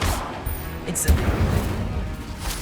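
Incendio fire spell cast in Hogwarts Legacy on PC, a sharp burst with a crackling whoosh followed by rumbling game effects and low background noise, with a voice speaking over it.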